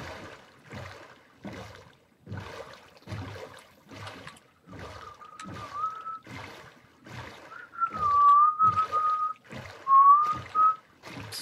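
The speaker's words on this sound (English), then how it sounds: "Sorry about the whistling" A person whistles a few wavering, sustained notes while paddling sounds from a boat on water repeat rhythmically throughout, close and moderately loud.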